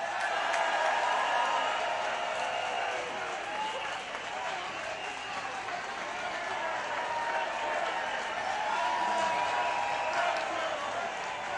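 A large outdoor rally crowd in Parliament Square applauds and cheers in a steady, sustained roar of clapping that carries through the whole stretch, with a voice speaking over it.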